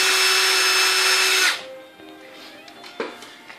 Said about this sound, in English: Drilling the old holeage.